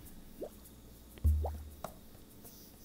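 Water in the video game Carto gives a few quiet plops and drips, with one heavier low splash near the middle among soft scattered droplets.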